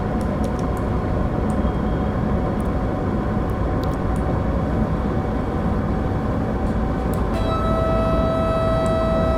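Steady electric locomotive drive from a BR 193 Vectron hauling a FlixTrain passenger train between Frankfurt and Fulda at around 160 km/h in Train Sim World 5: a loud continuous rumble with a faint whine, and a tonal hum joining near the end.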